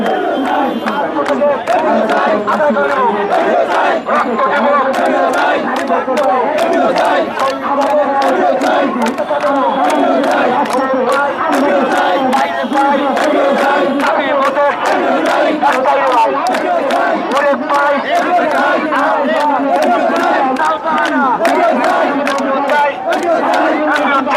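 Protesting teachers march toward the secretariat as a large crowd chants slogans in loud, rhythmic unison, with sharp repeated claps or beats punctuating the steady chanting throughout.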